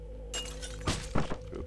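Glass shatters in the video game Hotline Miami: a sudden bright crash, then two more sharp breaking bursts with clinking fragments over a steady low in-game hum.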